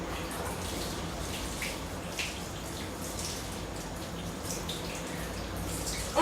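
Running water splashes steadily as a makeup brush is rinsed to wash out a day's worth of powder, a soft, continuous trickle and swish at close range with no voice over it.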